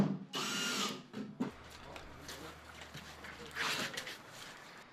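A power drill drives screws through wooden formwork boards in short, close, loud whirring bursts at the start and again near the end, with a person speaking in between.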